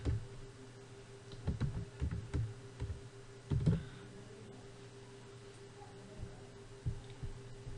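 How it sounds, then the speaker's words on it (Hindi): Someone types a short style name on a computer keyboard, a few quiet bursts of close key clicks separated by pauses, the taps soft and irregular with no talking. "तो उसका हम नाम टाइप करते हैं माई स्टाइल"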